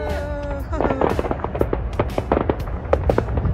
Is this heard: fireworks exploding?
yes